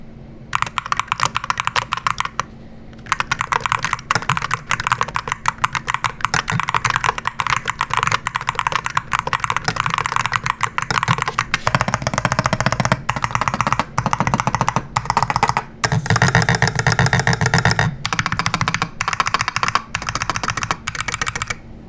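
Fast continuous typing on a loud 65% mechanical keyboard, dense sharp clacks close up, with a few brief pauses between runs of keystrokes.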